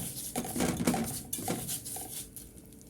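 Vermicelli frying in a pan for rice, with a few clinks and scrapes of a spoon against the pan over a soft patter, close and brief.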